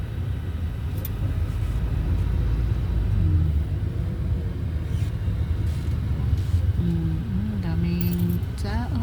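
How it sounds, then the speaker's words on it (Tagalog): Road traffic rumbles steadily on a busy street in a market area with vendors selling fish and produce, engines droning close by and a horn-like tone near the end. "Kaya traffic dito."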